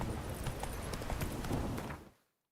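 Roach, a horse in The Witcher 3 video game, galloping with rapid clip-clop hoofbeats for about two seconds before the sound cuts off abruptly to silence.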